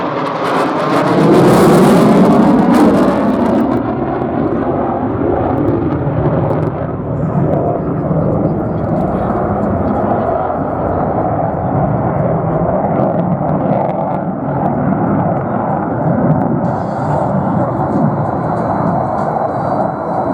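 An F-35 fighter jet performs a fast, tight turn at a Marine Corps air station airshow, its loud, broad roar sweeping past and then rumbling steadily in the distance.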